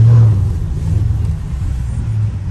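Low, steady engine rumble from a Dodge Charger SRT creeping along after a blizzard as it slides up to a gas pump, heard close and loud from inside the car with no talk.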